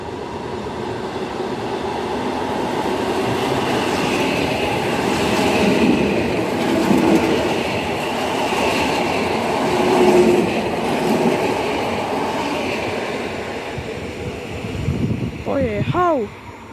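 An EN57 electric multiple-unit train rumbles steadily past nearby at Mińsk Mazowiecki, a broad low roar with wheel noise rising and falling, ending with a short whining tone as it pulls away.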